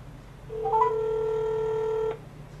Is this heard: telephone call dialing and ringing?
yes